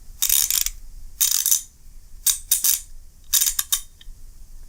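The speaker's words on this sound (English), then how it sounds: "When you spin the anvil with some off-axis torque, it binds a bit." A Craftsman Premium 84-tooth 3/8-inch drive ratchet is spun off-axis so it binds. Four separate bursts of fine, fast clicking come up close, each lasting about half a second, with short pauses between them.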